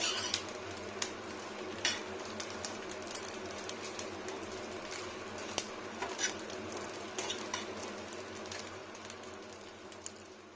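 Fish roe fries in a pan with a faint, steady sizzle and scattered sharp clicks and scrapes from stirring, with no talking.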